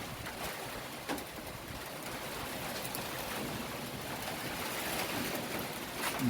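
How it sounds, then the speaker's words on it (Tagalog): Steady, loud rushing wind from Typhoon Odette, with a broadband roar throughout, no voices. "Malakas ang hangin dito"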